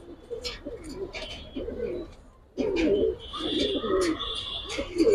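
Giribaz high-flyer pigeons coo repeatedly in soft rolling bursts close by, the calls growing fuller and more overlapping in the second half.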